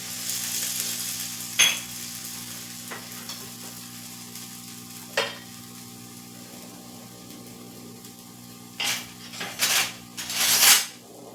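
A bread snack shallow-frying on an oiled tava griddle, a soft steady sizzle with occasional light clinks and scrapes of utensils, growing busier toward the end.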